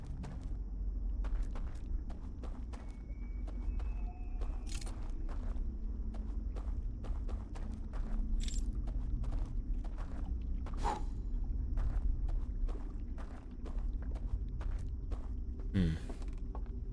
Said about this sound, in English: I think there's someone walking around upstairs.